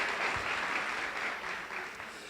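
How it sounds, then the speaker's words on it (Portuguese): An audience at a conference gives a steady round of applause, dense and even clapping that stays close and moderate in level throughout before easing slightly at the end, with no talking over it. "Uma salva de palmas aí"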